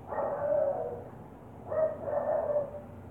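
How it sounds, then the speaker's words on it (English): Indoors, a dog in a room lets out drawn-out, muffled barks or howls in two sustained bouts, moderately loud and slightly distant, with no talking. "My dog is barking in the room"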